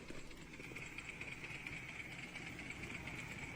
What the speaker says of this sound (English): It's a real coal engine. It's a lovely noise.